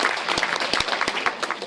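Audience applause at a screening of The Last Unicorn, dense steady clapping from a crowd filling the room, with sharper individual claps standing out through the wash.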